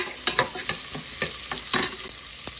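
Onion sautéing in a pan for mutton kuzhambu, close up: a steady hissing sizzle broken by quick scraping stirs of a spoon against the pan, with no voices.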